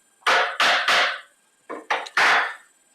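A chisel pares thin slices off the corner of a half-blind dovetail pinboard in six sharp, close strikes, grouped in a quick three and then another three.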